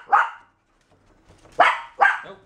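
A dog barks three times nearby: a single sharp bark, a short quiet pause, then two quick barks in succession, with no other sound around them.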